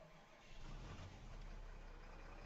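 A tractor engine in a farming simulator game cranks to life and settles into a steady, loud, rumbling idle that holds for a couple of seconds with no talking.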